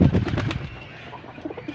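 Pigeon entering its coop: a burst of wing flaps and scuffling at close range, fading into quieter rustles and faint soft sounds.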